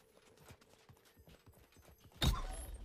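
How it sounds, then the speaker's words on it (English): Horse hooves clip-clop in a quick, even rhythm at a moderate distance in the video game Anarchy 77, followed by a sudden loud burst of noise near the end. "Ooh, heard a horse."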